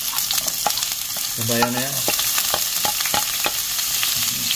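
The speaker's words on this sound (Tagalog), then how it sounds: "igisa na natin ating bawang sibuyas na luya" Garlic, onion and ginger sauté in a pan with a steady close sizzle and sharp stirring clicks, while a voice briefly speaks over the cooking.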